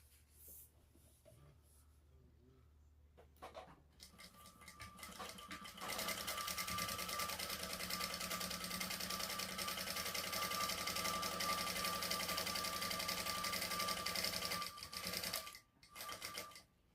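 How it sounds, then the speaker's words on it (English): A sewing machine runs steadily for about ten seconds, stitching across the seam allowance of a shoulder bag panel, preceded by quieter handling sounds and stopping briefly near the end. "we're just going to stitch across here at the seam allowance in the pattern"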